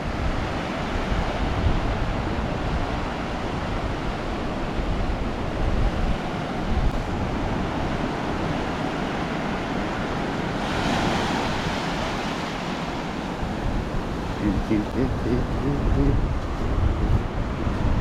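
Gulf of Mexico waves crash and rush on a Galveston Island beach at night in a continuous roar, with wind gusting against the microphone.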